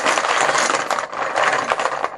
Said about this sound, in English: let's give our chips a mix and see who our no-hit bonus prize is going to.